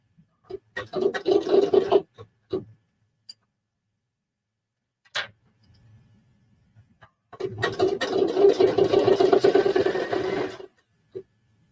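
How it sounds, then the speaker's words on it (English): Thread is drawn through fabric in a back stitch along a roughly 1/8 inch seam of a stuffed fidget pillow, making close raspy pulls in two longer bursts with a few short scrapes between quiet gaps. "I'm doing the back stitch."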